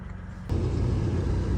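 A 2000 Ford Ranger truck engine cold-starts after a short quiet moment, then settles into a loud, steady, low rumbling idle close by.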